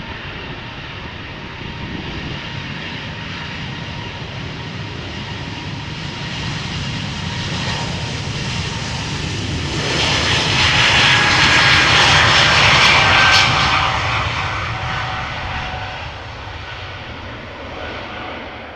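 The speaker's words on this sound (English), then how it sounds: "Time for another A220 from Air Baltic to take off" An Air Baltic Airbus A220 jet takes off at Amsterdam Schiphol Airport, a loud steady engine roar that swells to a peak in the middle and then slowly eases as it climbs away.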